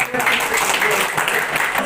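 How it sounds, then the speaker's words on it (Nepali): An audience at a fundraising event gives a guest another round of applause, producing a dense, steady wash of clapping that lasts the whole short stretch, with voices mixed in. "उहाँलाई फेरि पनि एउटा ताली दिउँ"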